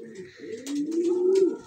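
A domestic pigeon coos in a low, rolling call that swells and holds through the middle, close and clear with no talk over it.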